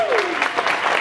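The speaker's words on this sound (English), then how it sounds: "How about a round of applause for Derek and Christy?" Attendees at a photography lighting symposium applaud briefly, a short, close, pulsing patter of clapping hands lasting about a second.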